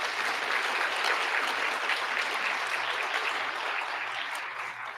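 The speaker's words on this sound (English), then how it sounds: "Genesis, let's give her a round of applause" An audience at a college presidential awards ceremony claps for an award recipient, a dense, steady applause that holds for about five seconds before easing slightly at the end.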